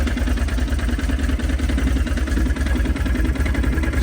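An ice-covered Can-Am vehicle idles in cold, snowy winter conditions at a camp, its engine running loud and close with a steady, even throb.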